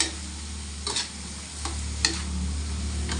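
String beans with oyster sauce sizzle steadily in a pan, with a few scraping stir strokes of a spatula punctuating the constant frying hiss.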